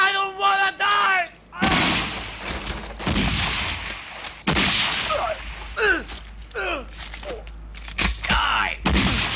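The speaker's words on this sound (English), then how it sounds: "They shot him!" Gunfire in a film scene, sharp loud bursts and cracks amid shouting voices and dramatic dialogue, with several broadband impacts spread through the clip.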